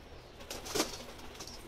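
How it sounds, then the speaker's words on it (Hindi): A pet pigeon coos softly at close range, a brief muffled burst in the middle over a steady faint background hiss, with possible light wing movement. "ये शर्मिला कबूतर है मेरा।"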